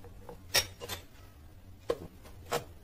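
A spoon clinks against a bowl as curd is stirred into milk for setting homemade dahi, giving three or four sharp, separated taps over a faint background hum, with no talking.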